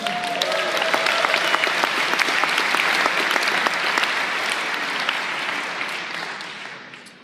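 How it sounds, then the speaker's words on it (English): An audience gives a speaker a loud, steady round of applause, continuous dense clapping from a large crowd that holds strong and then gradually fades toward the end. "let's clap it up for him"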